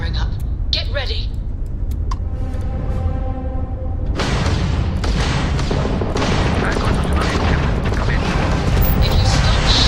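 Ship's weapons firing in the sci-fi action game Remnant 2, booming blasts and crackling shots that erupt after a quieter stretch and keep pounding loud and dense, while voices speak throughout.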